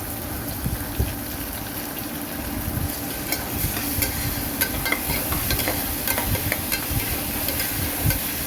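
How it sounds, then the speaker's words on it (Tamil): Onions sauté in a pan as the base for mutton pasta, making a steady crackling sizzle with intermittent stirring scrapes and taps close by. "வெங்காயம் வந்து நல்லா வதக்க விடணும்"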